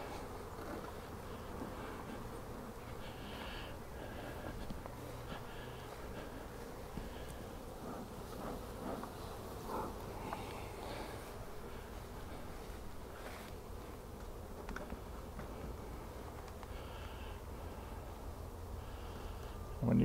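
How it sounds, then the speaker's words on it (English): Honey bees swarming around an open hive in a bee yard, a dense, steady buzzing drone close by that continues unbroken for the whole span. "We'll see how these bees are doing."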